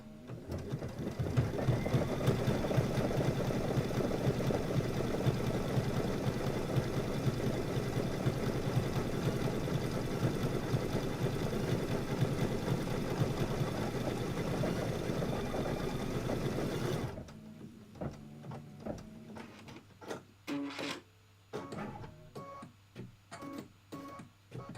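An embroidery sewing machine stitches down felt for a quilting project, running in a steady, fast, mechanical rhythm for about seventeen seconds before stopping, followed by quieter clicks and handling sounds.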